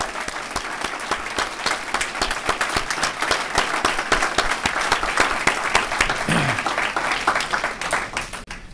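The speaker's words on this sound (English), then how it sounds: "I want everybody to give a big round of applause to Tom's family." A large crowd at a retirement ceremony applauds loudly and steadily, dense clapping that holds for several seconds before starting to thin out.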